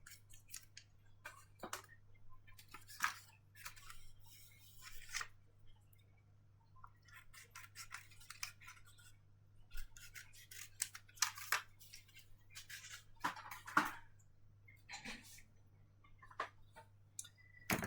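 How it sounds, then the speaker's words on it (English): Scissors cut away excess vinyl in a series of close, crisp snips and clicks, quiet and irregular over a faint steady hum, with no talk. "We can then cut off our excess vinyl that we can use for other projects."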